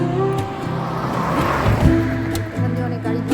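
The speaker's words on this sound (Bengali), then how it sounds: "এখান দিয়ে অনেক গাড়ি ঘোড়া যাচ্ছে।" Cars and other traffic roll along a roadside by the Ajay River near the West Bengal–Jharkhand border, a close engine swelling past with steady road rumble and some voices nearby.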